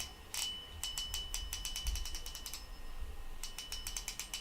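The drag on a SeaKnight Rapid spinning reel gives bursts of fast, crisp ratchet clicks close up, pausing briefly before resuming.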